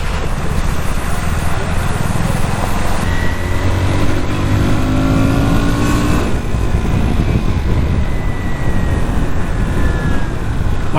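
A KTM Duke 160 motorcycle rides through heavy traffic, its engine droning steadily with rising pitch under strong wind rush, loud and close for the whole stretch.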